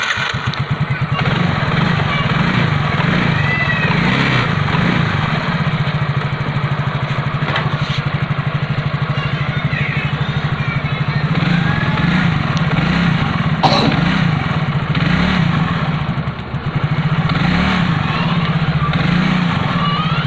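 A Yamaha Soul GT motorcycle engine runs loud and close during servicing, a steady buzzing drone with slight swells as the throttle is worked, continuous for about twenty seconds without speech.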